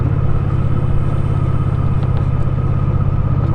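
A motorcycle rides over a cobblestone road near Kremenets, Ukraine, on a weekend trip, with a steady, loud low engine rumble and a continuous juddering drone throughout, and no speech.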